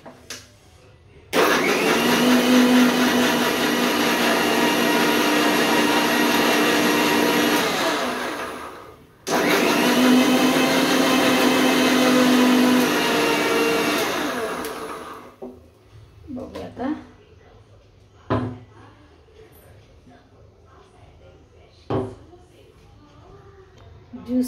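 Two long bursts from a kitchen mixer grinder blending juice, each running steadily for several seconds with a rising whir, then cutting off, followed by quieter clatter and a few sharp knocks as the jar is handled.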